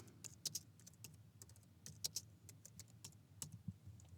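Quiet keystrokes on a computer keyboard tap out text in irregular bursts, soft and close, over faint background hum with no speech.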